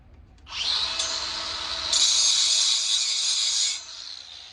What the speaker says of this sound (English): I'm gonna grind this off, see what.